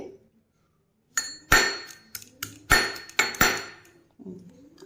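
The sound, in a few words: crushing a piece of ginger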